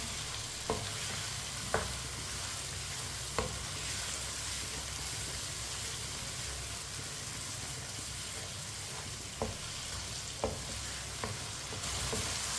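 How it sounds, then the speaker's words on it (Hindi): Tinda (apple gourd) stir-frying in a pan, a continuous close sizzle broken by several sharp spatula knocks and scrapes spaced irregularly throughout. "लाजम इसे 2 मिनट के लिए भूनना है ताकि टिंडों का कच्चापन ख़त्म हो जाए।"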